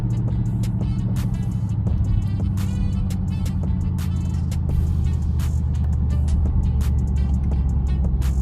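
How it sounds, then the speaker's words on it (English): A 2021 Dodge Durango RT drops a gear on its own while braking off a highway exit, its engine a steady loud drone that lifts slightly with the downshift, under continuous road noise. "I'm pressing on the brake, exiting the highway, and the car will downshift on its own"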